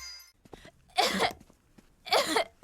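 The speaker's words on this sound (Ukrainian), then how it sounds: "Погуляв з друзями і почав кашляти" Two harsh, forceful coughs from a child about a second apart, fairly loud and close, with no talking around them.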